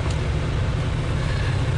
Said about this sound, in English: to listen to that V12 in the back is very special